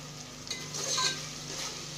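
Onions sautéing in plenty of oil for plain kushka biryani, a soft steady sizzle close by with a brief stirring swell in the middle, quiet and without talk.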